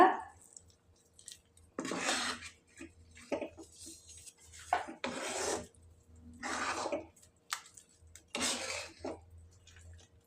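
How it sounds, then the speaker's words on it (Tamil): A spoon stirs boiled rice upma in a pan, producing several separate bursts of scraping and clinking with quiet gaps between the strokes. "இது போல் நல்லா கிளறிட்டு"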